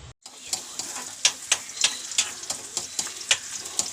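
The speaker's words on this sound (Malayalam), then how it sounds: "ഉള്ളി മൊരിയട്ടെ." Onions fry in hot oil, a soft sizzle broken by a run of sharp crackling pops at an uneven rhythm, close by with no one talking.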